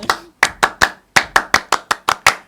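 Scout-style rhythmic hand clapping, with about eleven crisp, close claps in a patterned sequence: a short opening group, a pause, then a quicker run of evenly spaced claps, with no talk over it.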